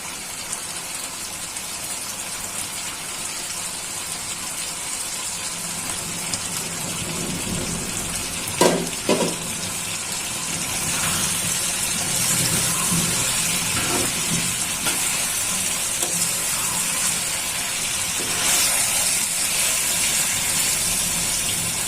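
Small mixed fish added to a hot pan of cooking vegetables, a steady broad hiss of frying that swells after a few clattering knocks, continuing alone without talk.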